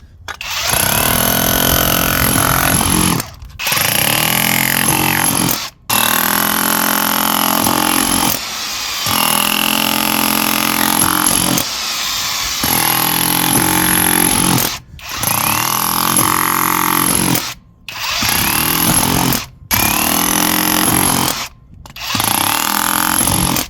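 A VEVOR cordless 20V SDS-Max rotary hammer, heavy-duty with a 1-9/16 in bit, drills into masonry pavers. Loud, close, rattling hammering comes in about eight sustained bursts separated by short pauses.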